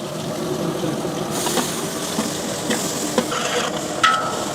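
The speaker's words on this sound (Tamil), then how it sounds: "பூண்டு ஒரு 2-3 நிமிஷம் பச்சை வாசனை போகிற அளவுக்கு வதங்கட்டும்" Garlic paste sautés in a large pot for chicken biryani, giving a steady sizzle with stirring scrapes and occasional louder clanks, close and continuous with no talking.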